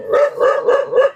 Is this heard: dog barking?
yes